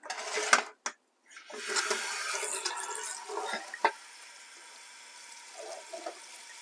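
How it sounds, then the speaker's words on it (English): Tap water runs steadily over raw beef steak being washed in a home kitchen sink, with a couple of brief clattering bursts early on before the flow settles into a continuous rush that eases off toward the end. "should always try and wash the meat if you can"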